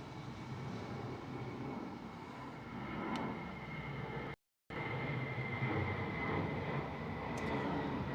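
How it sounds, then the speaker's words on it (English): A British Airways airliner going around at Heathrow, heard as a steady, broad jet engine roar at moderate distance, with a brief dropout midway. "And there is a go around British Airways"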